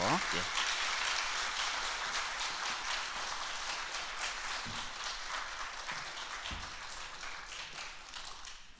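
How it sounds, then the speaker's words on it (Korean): A church congregation claps to welcome a newly arrived pastor before his first sermon at a Wednesday prayer service, dense steady applause filling the room and tapering slightly toward the end. "우리 좀 박수로 환영했으면 좋겠어요"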